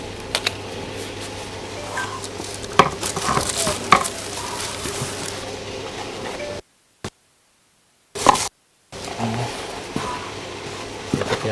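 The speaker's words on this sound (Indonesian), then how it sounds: "Baru diaduk biar rata dia." Scraping and clinking as a food mixture with chicken-flavor seasoning is stirred in a pan, with soft sizzling, irregular knocks and two short gaps of silence.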